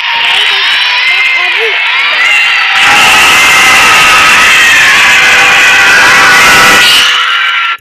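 A Poppy Playtime Chapter 3 game trailer carries loud crowd noise, with children-like shouting and cheering rising abruptly into a dense, sustained roar of voices and clapping, over an eerie tonal backdrop.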